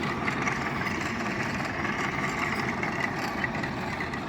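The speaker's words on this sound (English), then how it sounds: "Old tractor's running good." An old, near-antique tractor engine runs steadily while making hay, a continuous low rumbling drone with no talk over it.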